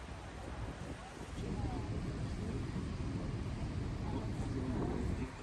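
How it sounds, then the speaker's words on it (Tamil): A tourist boat at Niagara Falls gives a broad, steady rumble and wash of water and engine that swells slightly and holds, with wind noise over it. "இது இப்போ வர்ற போட் வந்து கனடா மக்கள் வர்ற போட்"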